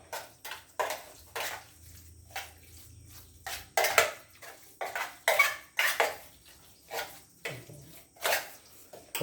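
Martabak batter being stirred in a bowl, with a run of clinking, scraping utensil strokes against the bowl in an uneven rhythm, close and fairly loud, no talking.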